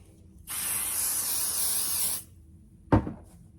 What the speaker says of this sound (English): I'm going to spray the back.